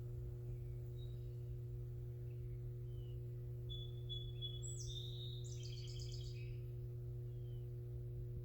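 Birds chirp a few times in the distance, short faint twittering calls over a steady low hum.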